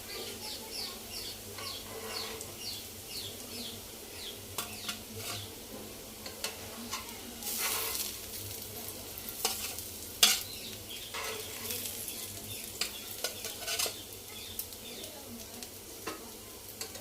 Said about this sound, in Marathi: तर आता आपले कटलेट व्यवस्थित दोन्ही बाजूने फ्राय झाले आहेत व्यवस्थित।